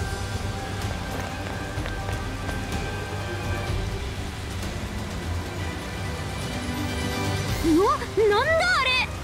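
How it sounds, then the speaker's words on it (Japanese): Steady rain pours down in the Persona 5 Strikers video game, a dense hiss of falling water with low rumbling underneath, and a voice speaks briefly near the end. "これは急に降り出してきたね。 もしかしてここが 雨降る地のようだな。"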